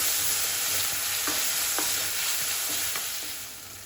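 A tomato cooking with ginger and garlic for ragda, a constant loud frying sizzle with a few light spoon taps and scrapes in irregular strokes, easing off slightly at the end, with no talking.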